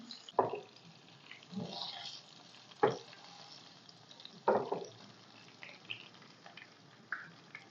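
Chicken pieces frying for chicken kabsa, skin crisping in a steady soft sizzle, broken by several sharp clanks and scrapes as the meat is stirred or turned in the pan.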